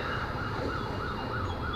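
Ambulance siren wailing steadily in city traffic on a three-lane road, its rising and falling tone continuous and fairly close over a low rumble of vehicles.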